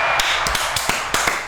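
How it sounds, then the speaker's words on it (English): Sharp, light clap-like taps come in an uneven series of roughly eight crisp strikes over a steady background hiss, with no talking. "There's that clap again."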